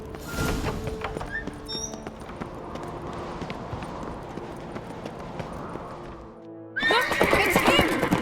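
A horse in The Witcher 3 whinnies over clip-clopping hooves, several shrill neighs ringing out near and loud, then a steady trot of hoofbeats, ending with another sharp burst of whinnying.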